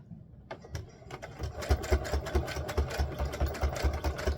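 A sewing machine runs a zigzag stitch on a doll dress with a tulle overlay, giving a fast, regular mechanical thumping that builds up and then holds a steady rhythm, close and alone.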